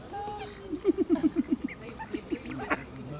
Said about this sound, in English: Luna, look at the ducks sitting there.